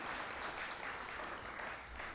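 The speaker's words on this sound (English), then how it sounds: "Feel free to clap." Audience applause fills a college debate hall at Sheridan College, a steady, dense wash of many hands clapping at moderate volume throughout, with no voices over it.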